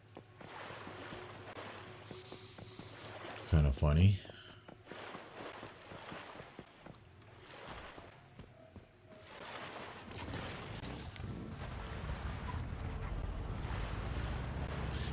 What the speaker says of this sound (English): I got stuck with the water sound, even though I'm not in the water anymore.